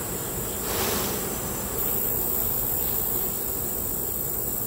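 Honey bees buzzing in an opened hive during a post-harvest summer split, a dense steady hum close by, at moderate level with no talk.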